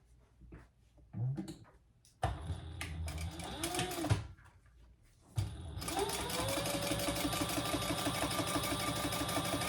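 Sewing machine top stitching a folded seam on a mini crossbody bag, short whirring bursts with pauses and fabric handling, then a long steady run of rapid mechanical stitching, close and alone.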